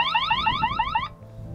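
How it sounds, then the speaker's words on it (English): A smart birdhouse alarm gives a loud electronic warble, rapid repeating rising chirps like a car alarm, for about a second before cutting off. "and my favorite, alarm."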